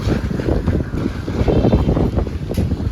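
Strong wind buffets the microphone on a flooded street, a loud, continuous roar and rumble throughout with no break.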